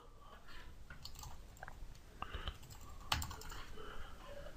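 Quiet clicking of keys on a computer keyboard during data entry, soft irregular taps and short bursts, faint and close, with no talking.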